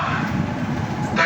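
A Mumbai Metro Line 3 train fills the carriage with a loud, steady running rumble and hiss heard from inside.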